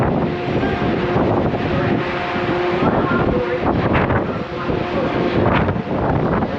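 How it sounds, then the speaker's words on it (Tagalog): Strong gusting wind on a ship's front deck buffets the microphone with loud, uneven roaring blasts, over a low continuous rumble of the vessel. "Lakas ang hangin."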